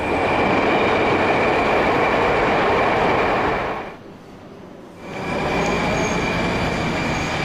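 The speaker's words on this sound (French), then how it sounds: "Le métro de Moscou, notamment dans les anciens wagons de la station Arbatskaya, se distingue aussi par son bruit." A loud, roaring old Moscow metro train with older carriages, near Arbatskaya station, rumbles along with a constant high whine, dropping briefly in volume midway before the heavy noise returns.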